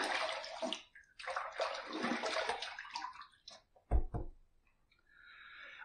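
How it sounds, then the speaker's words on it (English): Water runs and splashes in a sink while a face is rinsed after a shave, with a loud splash and gurgle near the end before the flow settles to a quieter trickle. "Let's rinse."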